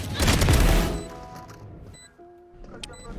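Gunfire from the video game Valorant opens with a loud, dense burst of rapid shots lasting about a second, then fades into quieter game tones and faint effects.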